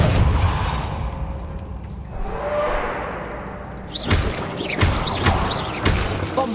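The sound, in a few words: Depulso spell impact in video game Hogwarts Legacy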